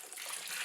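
Tap water runs steadily into a sink for rinsing live crabs, a continuous close splashing rush with no voices.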